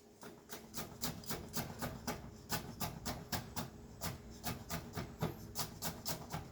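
A knife roughly chops garlic rapidly and rhythmically on a cutting board, about three quick strikes per second, close and crisp with no talking.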